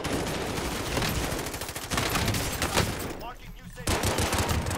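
Rapid automatic gunfire from a weapon in Call of Duty Warzone, loud and sustained, with dense bursts running almost the whole time and one short break before the shooting picks up again.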